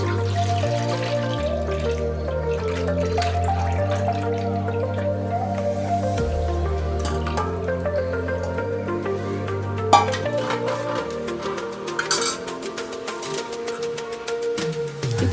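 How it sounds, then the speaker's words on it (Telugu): Junnu colostrum milk poured from a vessel into a bowl, giving a continuous thin trickle with drips and sloshing, close up, under steady background music. "ఈ జున్ను పాలు పోసేద్దాం."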